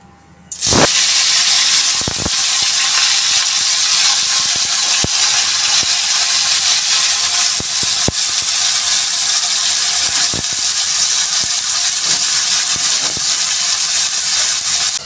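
Ridge gourd (galka) pieces drop into a hot pan and set off a loud, sustained sizzle with steady hiss and light crackle that keeps going without a break.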